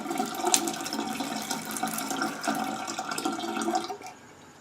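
Filtered water runs from a wall-mounted iSpring RCC7 filter tap in a continuous, splashing stream for about four seconds, then cuts off and leaves quiet.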